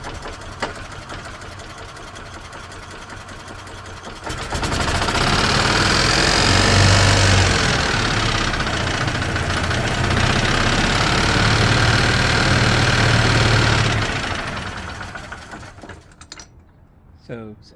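A 2010 Yamaha Drive G29 gas golf cart starts in neutral, its small engine settling into a loud, steady running drone for about ten seconds before cutting off, with a person talking over parts of it.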